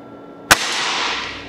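A single sharp air rifle shot from a Nitro X fitted with a 75 kg gas ram kit, firing a Promax pellet; one loud close crack followed by a lingering hiss-like decay, with no talk.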